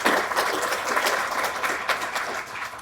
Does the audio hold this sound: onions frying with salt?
no